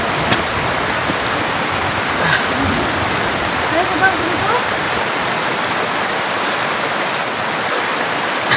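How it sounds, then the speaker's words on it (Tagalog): Heavy rain pours steadily in a dense, continuous hiss, loud and close, with no break. "Ang lakas pa ng ulan, no?"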